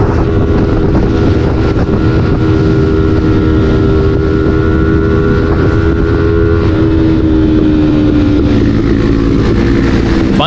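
A motorcycle rides along a ring road in Jammu and Kashmir between Bishnah and Baba Chamblal, its engine droning loudly and continuously up close, with heavy wind buffeting throughout.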